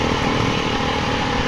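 A 2020 Beta 390 RR enduro motorcycle engine under way, a steady, loud, close buzzing drone that holds an even pitch throughout with no voices.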